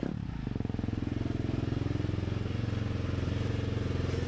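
Motocross motorcycle engine revving steadily up close as the bike rides toward the waiting zone at a European motocross championship, a continuous rasping drone with a fast pulsing rhythm.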